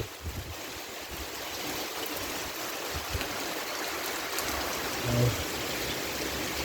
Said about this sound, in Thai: ฝนมาหลังบ้านด้วย